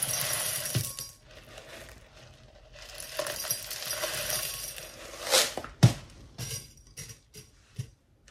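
Clay pebbles poured into the bottom of a plant pot for a Rhipsalis jungle cactus, giving bursts of light rattling clinks and clatter, with a few sharper knocks near the end; no one speaks.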